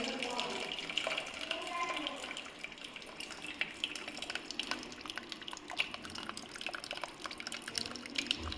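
Water is poured off cooked potatoes in a home kitchen while paruppu kulambu is prepared, giving a steady splashing, trickling stream with drips throughout and speech over it.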